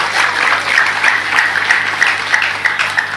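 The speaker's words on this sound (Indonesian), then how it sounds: "Lho tepuk sing banter," Loud, steady applause from an audience at an Indonesian religious gathering, dense clapping that carries on without a break and with no talking over it.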